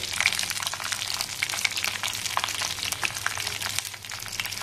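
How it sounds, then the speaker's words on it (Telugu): Urad dal, chana dal, mustard seeds and cumin crackle and sizzle steadily in hot oil, a close, continuous frying hiss sprinkled with small pops from the seeds and no voice over it. "ఒక స్పూన్ పచ్చెనగపప్పు, కొంచెం ఆవాలు, కాస్త జీలకర్ర వేస్తున్నాను. ఇవి వేయించుకుందాం మనం."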